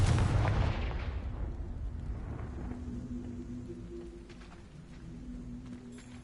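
The Confringo fire spell from Hogwarts Legacy on PS5 lands as a loud, deep explosive boom at the start, then fades into a long rumbling decay with a low hum beneath.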